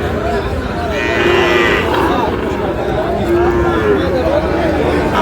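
A Sahiwal bull and other cattle at a busy livestock market in Dinajpur, with several low drawn-out moos rising over crowd chatter and people talking nearby.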